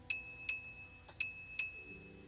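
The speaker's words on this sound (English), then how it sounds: "glanced in the direction of the violent jingling of a bell" A bicycle bell at a street crosswalk rings in four bright, metallic dings spaced about half a second apart, each leaving a short ringing tail in an otherwise quiet scene.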